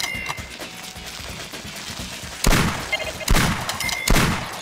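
Gunshots in the hunting game Cabela's Monster Buck Hunter during a Michigan top-shot challenge, three sharp loud reports spaced about a second apart with short echoing tails, after a quieter stretch of faint game sounds.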